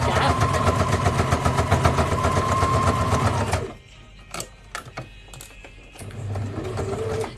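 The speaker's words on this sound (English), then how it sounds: "So we're just going to sew that" A sewing machine stitches the gap of a fabric scrunchie, running in a rapid, loud mechanical rattle for a few seconds before stopping, followed by small handling clicks and then a brief restart.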